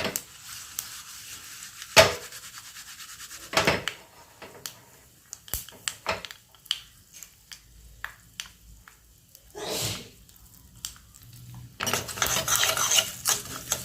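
Sesame seeds, asafoetida and curry leaves sizzle in hot tempering oil for a fresh coconut chutney, a soft crackling fry broken by sharp scrapes and clinks of a spoon stirring the pan.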